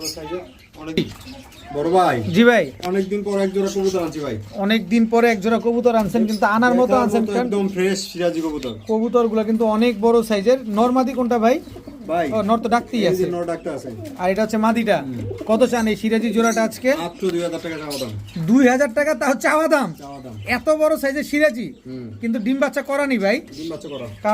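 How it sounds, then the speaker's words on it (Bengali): Large Sirazi pigeons cooing repeatedly in rolling, throaty phrases, close and loud, with people talking over them throughout. "এত বড় সাইজের সিরাজি কবুতর"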